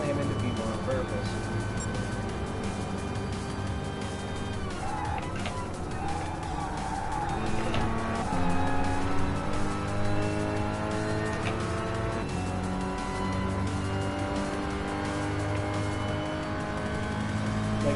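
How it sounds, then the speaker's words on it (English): Race car engines roar in Gran Turismo Sport during an online beta race on the Tokyo Expressway, including a Renault, with layered shifting engine drones and tire squeal running continuously while someone talks over them. "I can hear the engine of that Renault over my own engine, and I should at least be able to hear my own."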